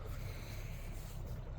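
A pontoon boat cruises on Fourth Lake, a steady low rumble of a small older outboard engine mixed with wind buffeting and water wash, continuous and close throughout.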